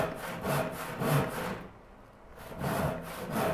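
Rhythmic hand sawing through wood on a saw bench, strokes pushing back and forth about twice a second, a short pause midway, then the sawing resumes close by.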